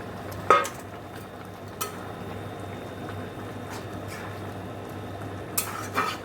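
Fish go into a pan of simmering prawn and bottle-gourd-greens curry, with a few sharp clatters and splashes over a soft, constant sizzle and bubbling close by. No one speaks.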